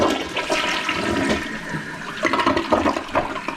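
A toilet that had been flushing slow and weak, flushed after repairs with the handle released, gives one loud, continuous rushing swirl of water that drains all the way down, with no talking.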